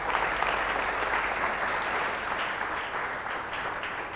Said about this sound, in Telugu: బిగ్గరకు చప్పట్లు కొట్టండి.